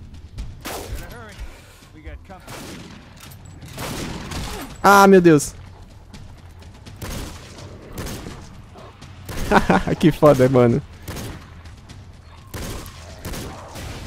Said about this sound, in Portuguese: Mas foda que eu não acerto os tiros também.